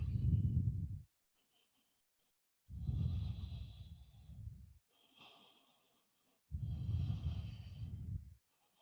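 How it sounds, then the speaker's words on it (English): Slow yoga breathing during a stretching posture, three long, audible breaths separated by pauses of quiet, each with a soft rushing airflow, close and gentle. "Breathing along the spine."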